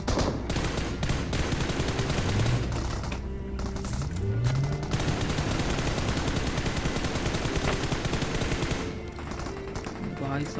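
Rapid bursts of automatic gunfire in the battle royale game BGMI, dense crackling volleys with brief pauses, loud and continuous across the stretch, with game effects mixed in and no talk.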